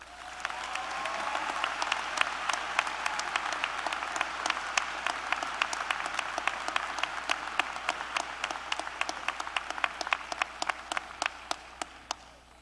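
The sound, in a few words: commencement audience applause for faculty honorees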